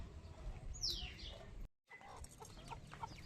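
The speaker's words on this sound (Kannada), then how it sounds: "ರಾಜಿ ಕೋಳಿ ಮರಿಗಳು ಎಷ್ಟು ಶುದ್ಧಾಗವು ನೋಡು." Chicks chirping in quick, high peeps, fairly close, over a steady low rumble, with a brief dropout partway through.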